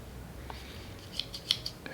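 Small scissors on a multi tool are handled, giving a few faint, brief metallic snips and clicks against a quiet background.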